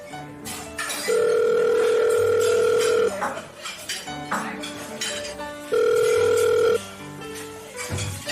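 A phone call rings out with two long, loud electronic ring tones separated by a pause, with a few clinks and soft noises in between.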